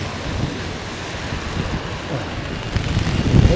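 Heavy rain pounds down in Halifax as gusting wind buffets the microphone, a steady broadband roar that swells louder toward the end.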